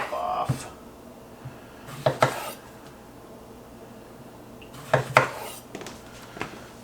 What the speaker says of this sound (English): Get the knife out. Steel it. Gotta have that good sharp knife. And we'll cut the top off.